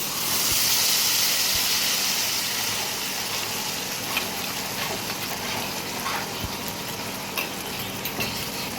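A ground spice paste blended with yogurt hits hot oil and sizzles loudly at first, then settles into a steady frying crackle with occasional stirring clicks, no voices.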